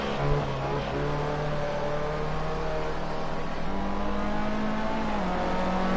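A Formula C race car from a racing video game pulls away on its out lap in cloudy weather, its engine a steady tonal drone with gear-shift pitch changes, heard up close for six seconds with no voices.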